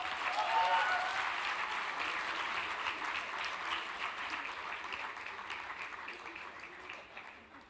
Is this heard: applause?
yes